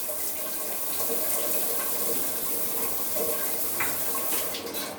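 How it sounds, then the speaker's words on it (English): A rain shower runs in a newly renovated bathroom, a steady, even hiss of falling water close by, with a few faint clinks near the end and no voices. "This is a rain and shower"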